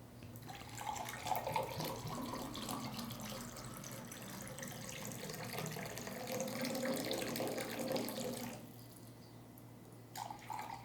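Water pouring into drinking glasses in a classroom, a steady splashing and trickling stream that fills most of the moment before cutting off, ending with a faint clink.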